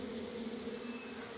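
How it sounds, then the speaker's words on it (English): Bees buzzing among plants in a Japanese wildlife garden made from an abandoned quarry, a steady faint drone close by, alone without voices. "the bees pollinating the plants and maybe giving me honey"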